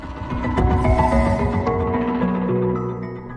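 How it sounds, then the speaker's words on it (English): Layered synthesizer ambience from the Great Before score in Pixar's Soul, with sustained tonal pads and shimmering high overtones, a busier textured start settling into steady held chords, moderately loud throughout. "These sounds you hear are created mainly through synthesizers."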